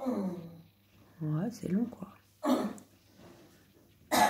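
A person coughs a couple of times, short rough bursts between and after snatches of French speech nearby.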